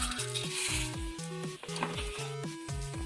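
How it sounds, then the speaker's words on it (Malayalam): Mustard seeds sizzle in hot coconut oil in a large pan for a green thoran, a steady close frying hiss with utensil stirring and pan knocks throughout, no voices. "എണ്ണ ചൂടായി വരുമ്പോഴേക്കും നമുക്ക് കടുകിടാം."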